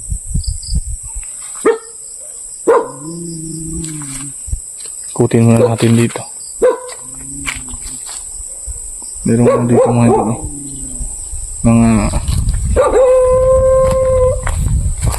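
A dog barks and howls in repeated drawn-out bursts at night near a rural hut, ringing out over a constant high drone of crickets, with someone speaking quietly between the calls.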